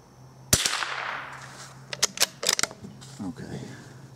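Several sharp gunshots from a rifle firing CCI .22 CB Short ammunition: one loud crack followed by a cluster of quicker, lighter reports, with a faint steady hum in the background.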